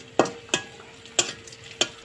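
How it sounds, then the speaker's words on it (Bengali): Onion, garlic, whole cumin and bay leaf frying in oil for a bottle gourd and egg dish, with four sharp spatula strokes at an even pace over a faint, quiet sizzle. "এবার তেলানির জন্য পেঁয়াজ রসুন দিয়ে ভেজে নেব লাল লাল করে।"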